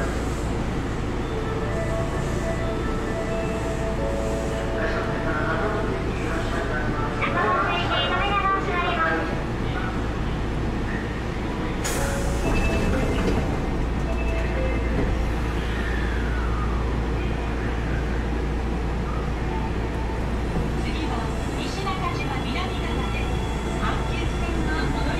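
A train carriage on Hawaii's Big Island rumbles with a dense, steady low roar throughout, with faint background voices and rattling mixed in.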